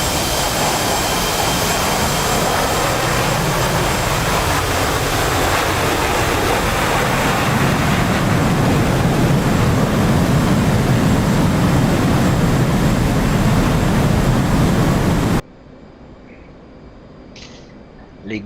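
A jet aircraft engine in flight in a video game roars as a loud, steady, broadband rush for about fifteen seconds, then cuts off abruptly to near silence.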